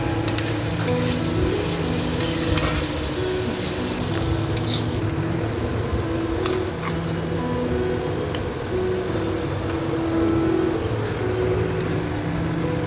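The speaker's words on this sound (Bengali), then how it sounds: "আজ রান্নায় ছিল উচ্ছে আলু ভাজা" Bitter gourd and potatoes fry in a home kitchen, with a loud, continuous sizzle of hot oil and occasional stirring scrapes running steadily throughout and no talking.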